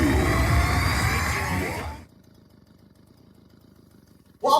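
A Stihl BG 56c handheld leaf blower engine runs loudly up close for about two seconds, then cuts off abruptly into near silence, with a brief burst of noise at the very end.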